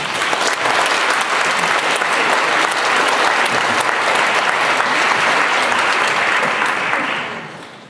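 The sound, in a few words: audience applause welcoming a speaker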